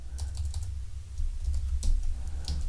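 Typing on a computer keyboard, close and clear, with irregular bursts of light key clicks over a low background hum and no talking.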